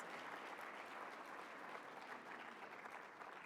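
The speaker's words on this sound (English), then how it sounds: "I think we can acknowledge that with applause." Conference audience at an opening session applauds, a steady, even wash of many hands clapping, quiet and slightly distant but unbroken throughout.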